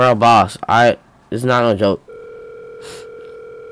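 Phone ringing in a video game set at a fast food burger farm, a steady electronic tone starting after people talk, continuing alone at moderate loudness.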